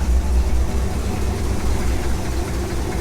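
A 1962 Chevy Impala's 350 small-block V8 idles close by with a steady, loud, low rumble and an even pulsing beat throughout, without any talking.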